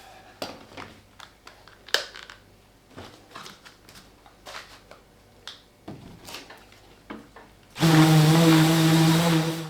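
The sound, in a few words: sanding a wooden drawer insert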